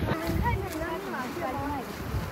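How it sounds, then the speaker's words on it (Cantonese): Strong wind buffets on an exposed hilltop stretch of the Dragon's Back trail to Shek O Peak on Hong Kong Island, a steady rushing roar. Someone speaks over it. "跟住呢度超級無敵大風"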